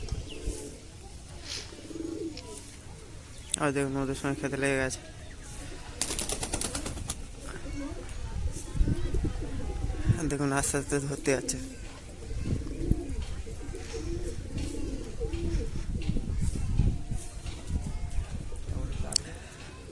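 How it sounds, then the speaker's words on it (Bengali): Pigeons feed outdoors, giving a few short bursts of cooing and some light pecking and flutter. Someone talks quietly over most of the scene. "দেখুন কবুতরটা এই খাচ্ছে"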